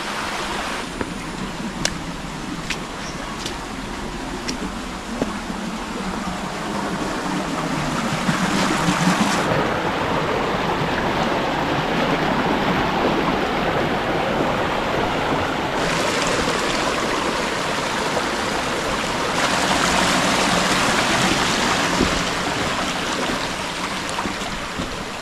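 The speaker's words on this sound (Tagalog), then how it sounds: "Hindi po masyadong malakas yung tubig dito mga kaprobinsya." A creek runs beside a road after rain, giving a steady broadband rush of flowing water that stays loud and continuous throughout, with no talking heard.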